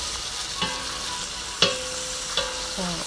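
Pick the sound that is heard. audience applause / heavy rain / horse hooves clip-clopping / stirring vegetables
stirring vegetables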